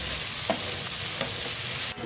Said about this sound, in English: I will deep fry the daga